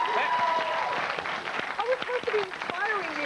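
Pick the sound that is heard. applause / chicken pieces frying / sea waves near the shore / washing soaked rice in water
applause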